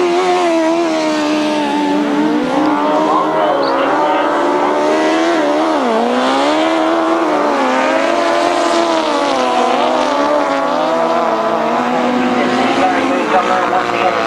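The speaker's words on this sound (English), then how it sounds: "It sounds so beautifully smooth, that engine that Gary Moon uses." A loud racing motorcycle engine whines past at high revs during a 1992 grasstrack qualifier, its pitch rising and dipping as it sweeps by, sustained throughout.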